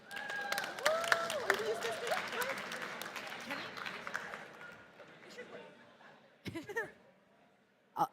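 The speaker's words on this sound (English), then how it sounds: "Please give Yana an applause." Audience applause at a conference session on adolescent rights in Eastern Europe and Central Asia, a moderate patter of clapping under chatter and light laughter that fades out, followed by a few brief bumps and clicks near the end.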